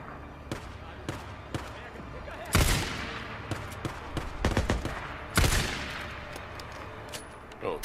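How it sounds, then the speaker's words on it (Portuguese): Gunshots in Days Gone ring out as sharp, loud cracks, two heavy blasts standing out among scattered lighter shots, with a person talking at times. "Olha, ele está atirando."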